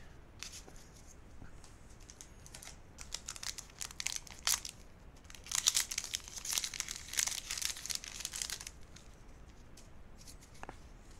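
Thick plastic wrapping on Final Fantasy trading card booster packs, Opus X, crinkled and crumpled in bursts of busy, crackling rustles that swell in the middle and fade toward the end, close to the listener.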